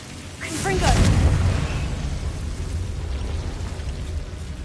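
A Confringo fire spell in Hogwarts Legacy goes off with a single loud, rumbling burst that swells and then tails off into a sustained crackling roar.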